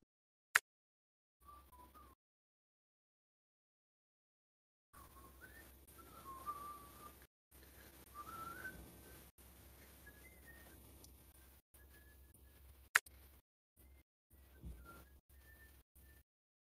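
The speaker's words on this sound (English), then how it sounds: "I'm whistling along to the music I'm playing" A person whistles a wandering tune along with background music, quiet and intermittent with brief gaps, plus a couple of sharp clicks, during a jigsaw puzzle session.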